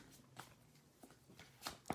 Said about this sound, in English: It's important to keep shuffling until the energy of the cards is ready.